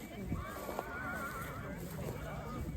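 A black draft horse at a heavy-horse show and competition neighs in a drawn-out whinny, moderately close, with crowd noise and people talking around it.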